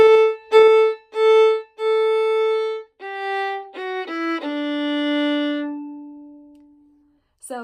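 Violin playing the first half of Cielito Lindo as a slow, clear, solo melody of sustained bowed notes, the last one held long and fading, close and with no talking.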